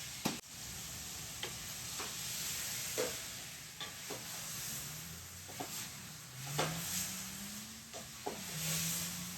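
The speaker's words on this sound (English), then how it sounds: "I don't use too much oil, so I have to keep stirring so nothing sticks at the bottom of the pot" A spoon scrapes and clicks against a pot at a steady pace as a tomato-based sauce with red bell peppers, garlic and herbs simmers with a soft sizzle and hiss underneath.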